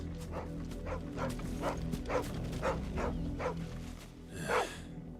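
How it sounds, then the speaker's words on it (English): A dog in the video game Final Fantasy XVI gives a run of short, regular barks and yips over a steady game soundtrack, ending in a slightly louder yelp, with no talking. "You're not Chloe are you, girl? Probably barking"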